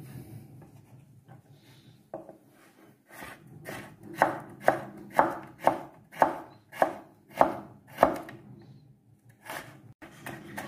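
Knife slicing a pork chop into portions on a cutting board in a kitchen, about ten sharp, evenly spaced chops that grow louder and steadier midway, close and alone with no talk.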